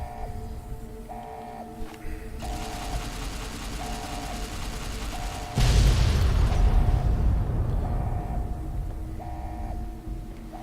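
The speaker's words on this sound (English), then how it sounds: "let's detonate the last one as well" A detonated charge in Fallout: New Vegas Lonesome Road erupts midway through as a loud, broad rumbling blast, then trails off into a lingering roar over steady game music and ambient hum.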